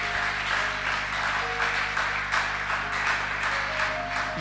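Church congregation applauding together after a call to acclaim Jesus, a steady dense wash of clapping with a sustained hum underneath, moderately loud and without talk.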